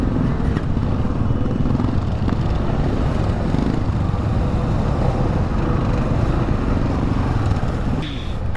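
A motorcycle engine runs steadily on a group breakfast ride, giving a loud, continuous rumble that dominates throughout.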